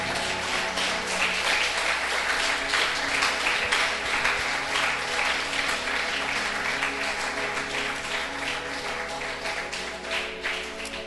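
Steady applause from a church congregation fills the sanctuary, dense clapping sustained at an even level throughout, with faint musical tones lingering beneath.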